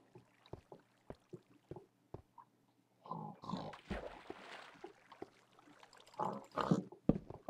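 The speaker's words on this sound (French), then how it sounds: "Pourquoi il y a des cochons là-dedans?" Pigs in an adventure map of a video game, a run of short grunts at first, then longer rough oinking and snorting bursts, fairly close and clear with no talk.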